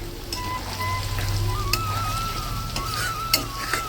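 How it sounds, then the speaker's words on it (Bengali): Paneer fries in a pan with a continuous, moderately loud sizzle and a few sharp crackles and pops, with no voices. "আমার পনিরটা ভাজা হয়েছে"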